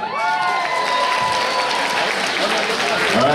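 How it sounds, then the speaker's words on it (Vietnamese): Guests at a wedding reception in a restaurant break into loud, sustained applause with some cheering, while a voice briefly rings out at the start and crowd noise fills the room. "Xin cho một tràng vỗ tay."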